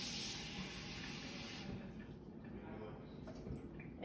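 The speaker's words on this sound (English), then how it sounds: "let the water run" Cold tap water runs from a faucet while measuring water for homemade bread dough, a steady hiss that thins out partway through. A faint bit of talk sits underneath.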